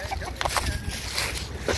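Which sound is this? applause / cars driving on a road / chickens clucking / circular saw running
chickens clucking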